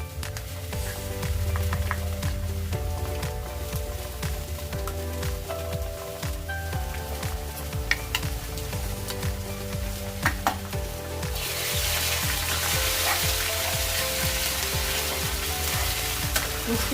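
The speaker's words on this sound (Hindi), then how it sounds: "3 teaspoon ginger garlic paste add कर रहे हैं।" Ginger garlic paste fries and sizzles among golden brown onions over a medium flame while being stirred for a rajma curry, making a steady close crackle throughout with louder bursts of sizzling toward the end.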